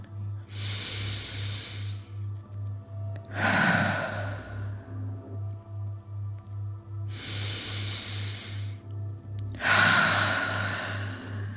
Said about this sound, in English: Inviting you to take a nice deep inhale through the nose and exhale out the mouth.